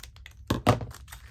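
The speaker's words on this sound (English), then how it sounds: "so I'm going to trim that off" Scissors trim paper for a journal page with two short, crisp snips close up, surrounded by faint handling rustles and quiet clicks.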